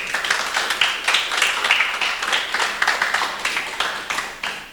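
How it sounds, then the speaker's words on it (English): Rhythmic clapping from a modest group at a launch event, individual claps audible in a loose, pulsing pattern, moderately loud and unaccompanied by speech. "that's something that deserves a round of applause as well."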